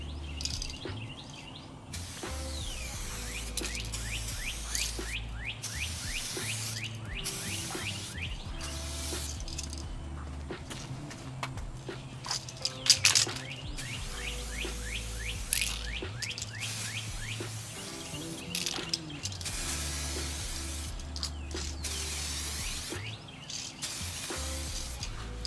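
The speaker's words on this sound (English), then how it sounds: "Spray paint" Repeated hissing bursts of an aerosol spray can applying clear coat to a Harley Sportster fuel tank, short sprays separated by pauses, close by with no talking.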